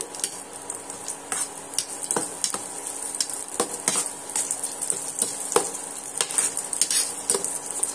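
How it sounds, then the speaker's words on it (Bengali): Raisins and cashews fry together in oil in a pan, a continuous crackling sizzle punctuated by repeated sharp scrapes and clinks of a stirring utensil against the metal. "দিয়ে কিশমিশ আর কাজু বাদাম আমি একসঙ্গে ভাজা করে নিচ্ছি।"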